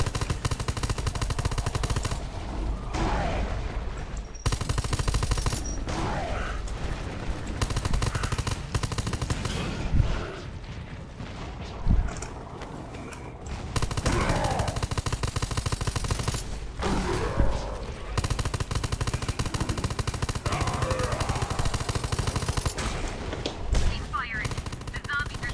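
Gunfire in the shooter game Undawn comes in rapid automatic bursts and repeated volleys, loud and close, separated by short gaps, while someone talks now and then.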